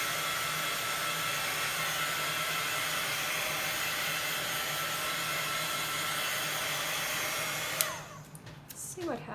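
A heat tool blows a steady, loud whoosh of hot air to dry ink spray on a craft tag for several seconds, then switches off, leaving a few faint handling clicks.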